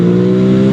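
A 2020 Aprilia RS 660 motorcycle engine held at high revs, a loud, steady, close buzzing drone with no voices.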